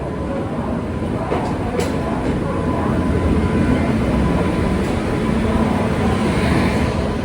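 Mangala Lakshadweep Express hauled by a WAP7 electric locomotive, running near Vijayawada: a loud, steady rumble and roar of the moving train heard continuously from on board, with no talking.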